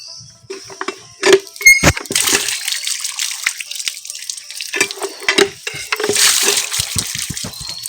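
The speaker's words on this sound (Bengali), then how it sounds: "আগে এইগুলোকে ভালো করে কল থেকে ধুয়ে নিয়ে যাই" Water runs from an outdoor tap as vegetables are rinsed under it, with splashing bursts, handling clatter and quieter gaps between, all close by.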